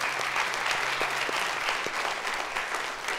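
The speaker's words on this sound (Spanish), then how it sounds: "Demos un aplauso a los que hoy día han dado el paso" A church congregation claps together right after a prayer, a steady, dense wash of applause that holds at an even level for a few seconds with no voices over it.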